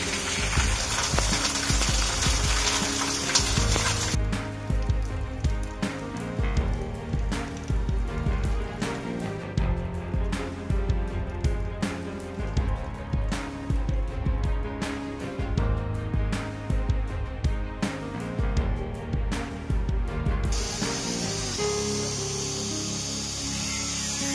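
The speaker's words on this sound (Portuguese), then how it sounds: "Eu não quero perder essa chuva, então vamos trabalhar com chuva mesmo." Rain falls and water runs at a house set up to collect rainwater for a cistern, a steady spattering wash broken by frequent sharp drips and splashes, close and fairly loud, with no talk.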